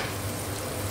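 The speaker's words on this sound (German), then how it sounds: "Jetzt wird das einfach kurz anbraten hier." Bull testicles pan-frying briefly give off a steady, close, dense sizzle with crackling spatter that holds evenly from start to finish, with no voices over it.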